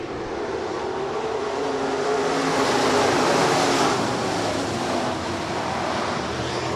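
A pack of USRA B-Modified dirt track race cars at Rapid Speedway roars off at the green flag of a heat race, a broad, distant, washing engine roar with wind noise and no clear individual cars.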